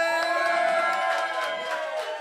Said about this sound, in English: And a big round of applause to all of you.